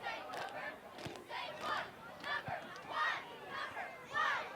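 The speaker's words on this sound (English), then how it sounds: "Oregon cheer squad here tonight again." Oregon's cheer squad cheers at a boys high school soccer match against Waunakee, heard as faint, distant shouted chants rising and falling in repeated bursts over the ambient field noise.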